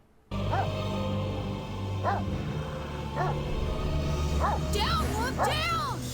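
A dog in the video game StoneKeep barks in a few short yips, then whimpers with rising, wavering whines, over a steady low in-game hum and music bed.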